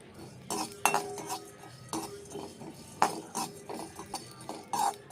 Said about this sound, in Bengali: এবার ওই কড়াই দিয়ে দেব এই সব গোটা মশলাগুলো। এবার এগুলো আমি ভেজে নেব।